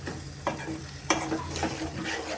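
A spoon stirs dry fish curry masala with coriander powder in a pan, scraping in a steady rhythm over a low sizzle, with a couple of sharper clinks standing out, close and alone.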